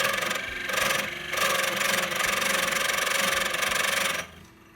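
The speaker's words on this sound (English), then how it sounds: "we're going to fire this thing up and move the reamer in." A wood lathe runs steadily with a reamer boring into a seam ripper blank, giving a loud, continuous grinding whine that shifts slightly in tone, then drops to a quieter hum near the end.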